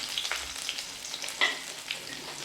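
Small onions fry in a sesame oil tempering for a tamarind okra curry, giving a close, crackling sizzle with bursts of spattering over a continuous hiss, no talk.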